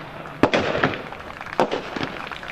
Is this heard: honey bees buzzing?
no